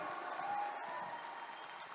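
A crowd applauds itself at a motivational gathering, a short, faint burst of dense clapping that holds steady for a couple of seconds at a distance.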